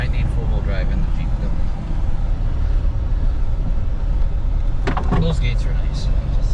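A Jeep driving off-road through gates and rough ground, a steady low engine and road rumble throughout with rattles and a brief clunk near the end, people talking over it.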